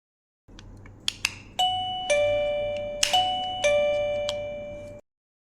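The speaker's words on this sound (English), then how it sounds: "Load the batteries into the chime until you hear a ding-dong sound." A ZUMIMALL P8W doorbell chime, just loaded with batteries, gives a few short clicks and then several clear, ringing ding-dong tones that overlap and fade, loud and close, with no talking.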